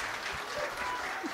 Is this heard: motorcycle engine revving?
no